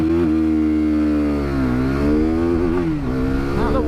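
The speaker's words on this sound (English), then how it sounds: "That's the rev limiter twice." A KTM RC 390 sports bike launches hard, its single-cylinder engine revving up and bouncing off the rev limiter twice, loud and close with rising and falling stuttering pitch.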